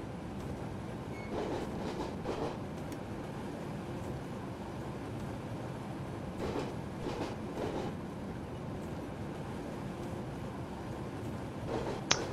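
A Metronom train running between Hamburg and Hanover in Train Simulator 2015, a quiet steady rumble of the moving train with faint recurring clicks of wheels over rail joints, no talk.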